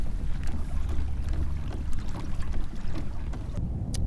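Pedal-driven kayak gliding across shallow Florida Keys flats in the evening, a close, steady rush of water and hull splash mixed with low wind buffeting, continuous throughout.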